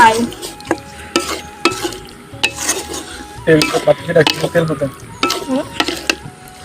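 Skins sizzling in a pan while being stirred, with repeated scraping and clinks of a utensil against the metal.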